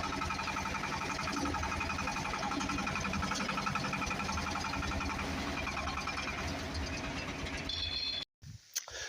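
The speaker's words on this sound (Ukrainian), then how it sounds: "завели тракторця нашого і вирушаємо в поле." A small tractor engine drones steadily and loudly, chugging without letup, then briefly cuts out and sputters near the end.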